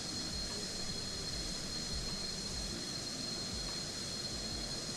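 An F-35 jet coming in to land in Microsoft Flight Simulator gives a constant, even engine roar with a broad hiss that holds steady for the whole stretch, with no voices over it.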